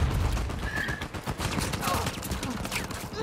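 Rapid pistol gunfire from a team deathmatch in Uncharted 4, a dense run of sharp shots fired in quick succession, loud and continuous with chatter mixed in.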